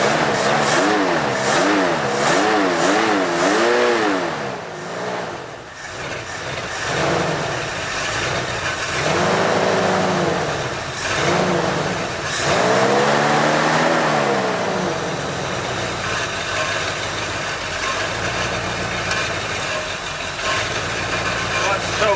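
A Ford Bronco left ten years in a storage lot runs at a weak, uneven idle with a cold engine, a loud, steady rumble throughout with a few surging revs, while a person talks over it.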